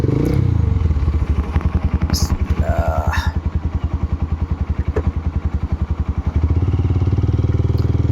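A motorcycle idles and runs close by with a rapid, even engine putter, a couple of sharp clacks early on, then the engine revs up and grows louder toward the end.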